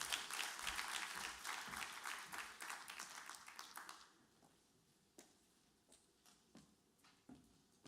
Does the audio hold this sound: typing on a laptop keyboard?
no